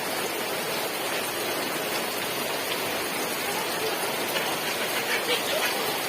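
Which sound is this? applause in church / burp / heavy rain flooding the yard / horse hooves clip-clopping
heavy rain flooding the yard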